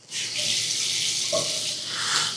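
Water gushes from a bathtub faucet in a house bathroom at strong pressure, a loud, steady, close rush that runs unbroken for a couple of seconds.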